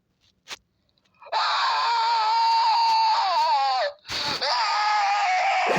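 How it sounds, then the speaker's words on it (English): A handheld recorder plays back a person's recorded scream: a loud, strained, wailing cry held for several seconds, then a short break, then a second harsh scream, after a faint click at the start. "I record myself screaming."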